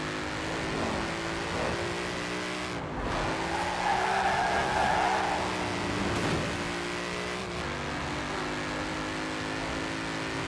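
Car in Forza Horizon 4 accelerating hard with wheel spin, a loud continuous engine drone climbing through the gears with tire squeal and skidding noise, steady and close with no talk.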